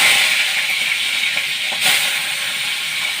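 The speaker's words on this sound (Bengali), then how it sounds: "নুন হলুদ মিশিয়ে চিংড়ি মাছটাকে ভেজে নেব।" Prawns frying in hot oil in a kadai with salt and turmeric, a steady broad hiss and sizzle that holds evenly throughout, with no one talking.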